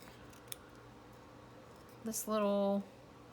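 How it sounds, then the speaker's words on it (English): Scissors snip out a small paper image for a handmade junk journal page, a couple of quick crisp cuts followed by a brief louder scrape, close and alone in a quiet room. "I'm going to cut that out and stick that in my free spot"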